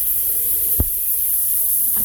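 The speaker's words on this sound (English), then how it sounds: "we're gonna rinse it off first" Cold tap water runs steadily over king salmon and mahi mahi fillets in a kitchen sink, a close continuous splashing hiss broken by a brief thud or two as the fish is handled.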